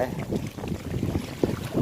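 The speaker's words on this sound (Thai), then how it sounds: "ลมเลื่อนดีครับ แต่ลมแรงครับ" Strong wind buffets the microphone in a steady, heavy roar at a reservoir, with muffled rumbling throughout and a faint voice barely audible beneath it.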